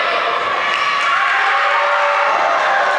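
A wrestling crowd at a live MAW show roars and cheers in a steady, loud wash of massed voices with no pauses, sounding close and filling the whole space.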